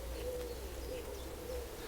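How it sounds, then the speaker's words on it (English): A bird gives three soft, low cooing calls at an even pace, faint against a quiet outdoor background. "it's just the bird"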